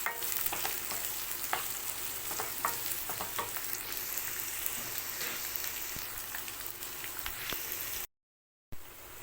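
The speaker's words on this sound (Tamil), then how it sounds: "ஆனியன் போட்டுக்கலாம் ஆனியன் நல்லா வதங்கட்டும்" Onions sautéing in a pan for prawn thokku, a dense rain-like sizzle with occasional stirring clinks, steady and close, then a brief gap of silence near the end.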